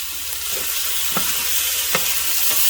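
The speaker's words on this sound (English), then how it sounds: "I don't want it to boil. I want it to sear." Tandoori spiced chicken searing in a hot Dutch oven, a loud, steady sizzle and fry close by, with a couple of brief clinks over it and no talk.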